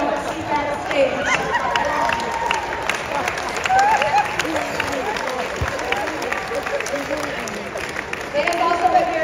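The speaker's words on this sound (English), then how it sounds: "Please give a giant round of applause for the people that you don't see backstage" Audience applause at a dance company winter recital for the backstage volunteers, a dense sustained wash of clapping from a crowd with chatter and cheering voices mixed in, steady throughout.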